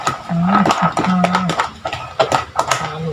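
A spoon clinks and scrapes against a pan while tuna with carrots and potatoes is stirred, with irregular metallic knocks over the clip and a voice speaking intermittently.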